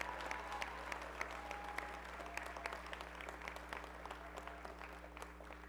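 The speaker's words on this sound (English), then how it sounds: "Another round of applause for Samantha Costa" Graduation ceremony crowd at a college commencement giving another round of applause, dense continuous clapping from many people at moderate distance over a constant low hum.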